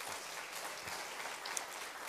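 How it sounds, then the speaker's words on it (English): Faint, distant applause from a conference audience after a keynote speaker, a soft, even patter of many hands that stays low and uniform the whole time. "Let's give him a big round of applause."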